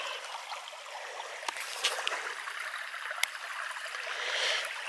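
A hill stream at Weacombe babbles and trickles steadily over rocks, a continuous bright rushing with a few sharper splashes, fairly close and without voices.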